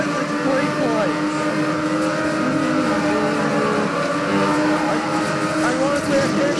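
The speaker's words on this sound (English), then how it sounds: "I can actually hear the ghost car moving" Whining ghost car engines in TrackMania, a steady high drone with pitch sweeping up and down, voice talking over it.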